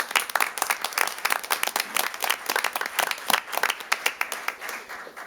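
Applause at a city council meeting after a motion carries, a room of people clapping unevenly with scattered sharp claps at moderate volume, and no talk over it.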